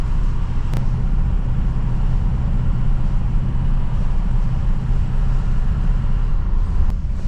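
A Ford F-350 Powerstroke pickup truck drives uphill off-road, its engine a steady, loud low rumble that holds without letup, with a couple of faint clicks along the way.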